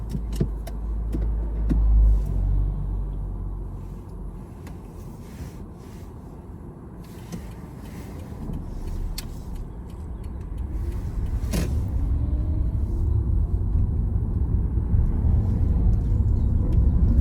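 A car drives on along a Bletchley road during a UK driving test, its steady low engine and road rumble filling the cabin, building toward the end.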